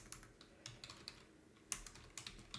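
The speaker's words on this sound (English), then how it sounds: "Typing is hard today." Computer keyboard typing during a programming lecture, irregular bursts of sharp clicks with short pauses, faint and close with no talking.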